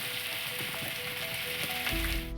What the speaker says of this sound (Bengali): লাল লাল করে ভেজে নেবো পেঁয়াজটা।